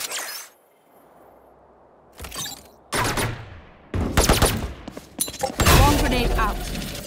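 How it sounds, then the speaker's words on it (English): Valorant swarm grenade bursting in a series of sharp cracks and thuds after a quiet start, loud and close, each burst separated by brief gaps, with game effects and a voice mixed in. "Placing swarm grenade."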